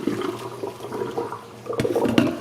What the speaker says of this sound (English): Drain the hot water off.